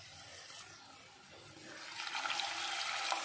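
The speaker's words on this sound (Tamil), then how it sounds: "இப்போ நம்ம தண்ணி ஆட் பண்ணிக்கலாம்." Water poured into a pan of paneer butter masala, a soft rushing pour that swells louder over a couple of seconds, close and without talk.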